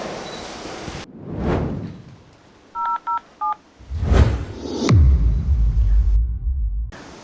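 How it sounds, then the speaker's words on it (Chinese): Telephone keypad dialing tones, a short burst of distinct beeps as a number is entered, followed by rumbling background noise. "以防万一，我现在就给医生打电话确认一下。"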